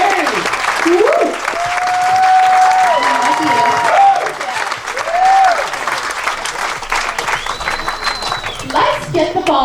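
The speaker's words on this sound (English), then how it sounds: "Round of applause for Grandparents." Loud applause from wedding guests mixed with whoops and cheering voices, sustained for nearly ten seconds.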